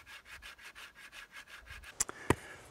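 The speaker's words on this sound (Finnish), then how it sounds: "Hiotaan tasaiseksi." A cut-off plastic half-decilitre measuring cup is sanded flat with about ten steady, rhythmic rubbing strokes, close and fairly quiet, followed by a few sharp knocks at the end.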